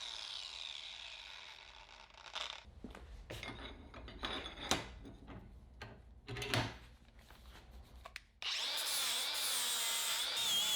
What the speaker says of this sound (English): Using a flap disc, I cleaned up the edge and it made quick work of it.